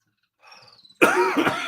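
A faint rustle gives way to a loud, close, harsh cough that rasps on for nearly a second with no talking.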